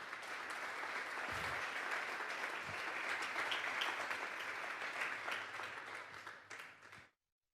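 A church congregation applauds together during a Sunday service, a broad sustained wash of clapping lasting about seven seconds before stopping abruptly.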